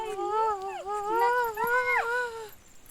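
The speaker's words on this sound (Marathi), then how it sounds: "कुत्रा आला कुत्रा आला" A dog howls in long, rising and falling wails with whimpering bends, close and fairly loud, lasting about two and a half seconds.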